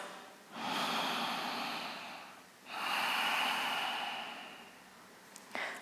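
Slow, deep yoga breaths come close and soft: a long airy inhale or exhale, a brief pause, then a second long breath, with a faint click at the end.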